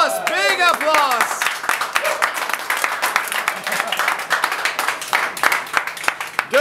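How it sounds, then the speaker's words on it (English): Crew on a film set clap and cheer after a wrap, with whoops and shouts at the start, then dense close clapping with individual sharp hand claps running throughout. "Wow, big applause."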